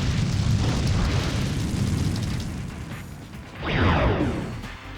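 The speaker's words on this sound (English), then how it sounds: "we are going to bomb his bombs with gushing magma" A gushing magma spell in The Legend of Dragoon erupts with a loud, rumbling roar, fades slightly, then surges again in a second fiery burst before trailing off.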